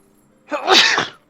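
A single sharp sneeze bursts out up close, loud and brief, followed by a small sniff.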